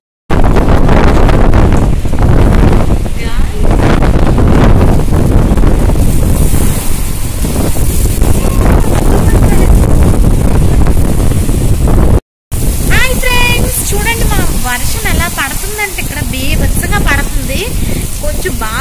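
Strong wind roars hard against the microphone during a heavy rainstorm, loud and constant with gusting surges and a brief dropout near the middle; rain hiss and a voice may sit beneath the buffeting.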